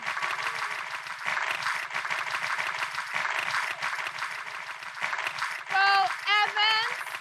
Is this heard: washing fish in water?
no